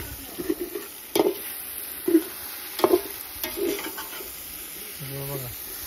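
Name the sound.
oil sizzling in pan with tomatoes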